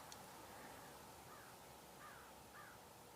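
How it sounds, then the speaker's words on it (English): Roadside crow gives three faint cawing calls at a distance, spaced out under a steady wash of background noise. "I hear a crow too."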